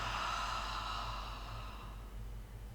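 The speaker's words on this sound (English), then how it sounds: "Exhale through the mouth." A slow, soft exhale through the mouth during a beginner yoga breathing exercise, a breathy hiss that fades gradually over a few seconds, heard alone and close.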